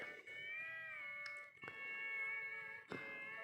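A cartoonish cat meows from a Roblox video game, two drawn-out tonal meows separated by brief clicks, clear and up front with no talking.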